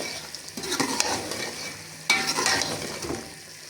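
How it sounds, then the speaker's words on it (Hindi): Onions and green chillies frying on high flame in a pan for karahi, loud close sizzling with repeated scraping stirs and a sharp burst of spatter partway through. "अब इसे भून लेते हैं हम तेज़ आंच पे।"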